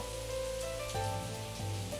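Rain in the Higurashi When They Cry video game, falling on a dark village at night as a steady, soft hiss under sustained musical tones, while a voice narrates over it.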